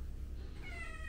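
A house cat gives a single short meow, faint and indoors, over a low background rumble.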